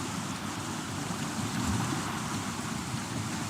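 Ocean waves roll in on a shore, a continuous broad wash of surf and wind noise with a gentle swell in the middle, fairly near and steady.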